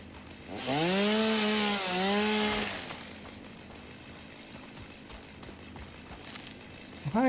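A chainsaw in the video game Satisfactory saws down trees, two loud rising and falling revving bursts, then a steady low ambience with a short sharp sound at the very end.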